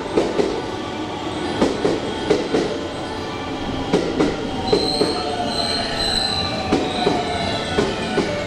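A JR West Osaka Loop Line train rolls into Tsuruhashi Station with rhythmic clacks over the rail joints, and high metallic wheel squeals rise as it slows along the platform.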